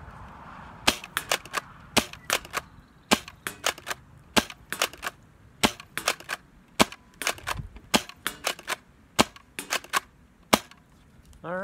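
A MercuryMag foam dart blaster, modified as a carbine, fires a steady run of about thirty sharp, loud snapping shots in quick succession, each a crisp pop over a quiet background.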